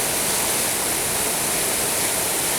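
Glenashdale Falls river at Whiting Bay on the Isle of Arran, running fast with dark, peaty water, makes a loud, constant rushing hiss close by, unbroken and without any talking.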